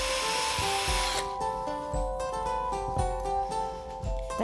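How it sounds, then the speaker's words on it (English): A drill grinds loudly at first through a red plastic bottle lid, then slows into a steady motor hum with rhythmic scraping bumps. "Then we need to get our drill again and drill a hole through the middle of the red lid"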